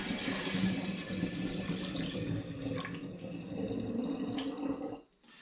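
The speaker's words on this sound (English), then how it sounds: "So I'm now going to add this to the apple juice." Cleared cranberry and pomegranate juice pours steadily into apple juice already in a glass demijohn, a continuous close liquid gush that stops abruptly near the end.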